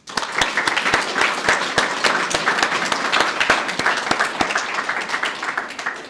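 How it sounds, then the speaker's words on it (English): An audience applauds at a police community liaison officer graduation ceremony, with steady sustained clapping from a crowd that tapers slightly toward the end. "So I think they deserve a round of applause."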